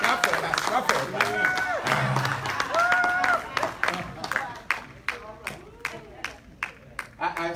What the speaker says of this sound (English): Clap for me, clap, clap for me, clap for me.